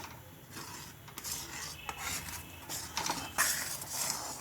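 A spoon scrapes and stirs egg and carrot halwa in a pan, a quiet, continuous rasping and rubbing with irregular strokes close by.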